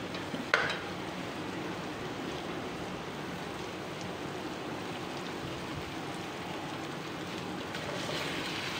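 Garlic paste frying with onions in a pan gives a steady, close sizzle and crackle throughout, with a short clink near the start.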